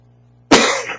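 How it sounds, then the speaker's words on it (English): A single sharp cough bursts out after a quiet moment, close and loud, with a short rough tail fading away. "did not want to cough into the microphone"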